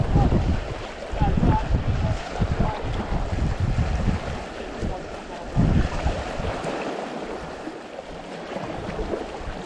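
Wind gusting hard at a coastal shore while lure fishing for bass, with steady broadband rushing and buffeting against the microphone and low surf rumble underneath, louder surges recurring throughout.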